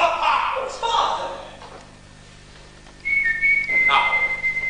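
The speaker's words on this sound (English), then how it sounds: "Will you stop that damn whistling?" A person whistles a bright sustained tune, first in wavering phrases and then in long held notes after a short pause, close and fairly loud amid dialogue.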